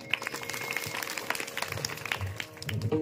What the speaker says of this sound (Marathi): त्या जोरदार टाळ्या वाजवा